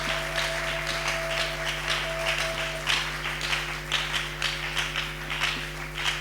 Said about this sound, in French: est-ce que, encore une fois, on peut acclamer pour la gloire de Dieu?